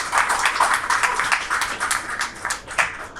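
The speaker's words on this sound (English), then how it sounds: "Let's have a round of applause for Marcos for being such a great sport" A round of applause for a guest: a small group claps in quick, uneven bursts, close and moderately loud, lasting a few seconds with no talking over it.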